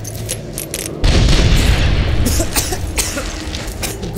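A frag grenade goes off in the Medal of Honor (2010) video game during a dark combat mission, a sudden loud boom that rolls into a dense, sustained rumble amid scattered battle noise.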